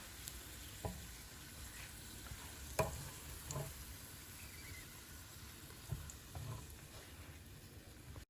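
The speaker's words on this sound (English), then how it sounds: "So you keep frying until the raisins swell up and turn whitish in color." Faint continuous sizzling of raisins frying in a pan until they swell, with occasional soft clinks and stirring scrapes.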